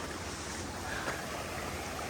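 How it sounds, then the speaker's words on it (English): Fast-moving river water about a foot deep rushes in a constant broadband wash. It is steady and fairly close, with no voices over it. "that water is at least a foot deep, moving pretty fast"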